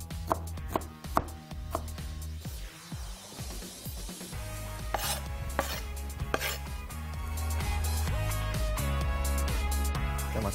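Green bell pepper being chopped into small pieces on a cutting board, a close series of quick, crisp knife strikes in an irregular rhythm, loud and without talk.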